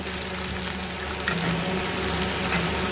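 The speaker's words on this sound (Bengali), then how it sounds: "দিয়ে ভালো করে নাড়াচাড়া করে নেবো আমি।" A cornflour and soy sauce mixture is stirred in a hot pan for chilli paneer, giving a steady, dense sizzle with occasional scraping from the spoon throughout, close and fairly loud, without talking.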